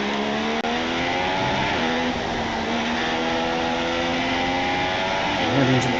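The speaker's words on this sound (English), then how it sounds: "Mercedes power unit at the back of this car." A Mercedes-powered Formula 1 car in a racing video game roars steadily at high revs through a wet German Grand Prix lap, the engine note loud and continuous with gear shifts changing the pitch.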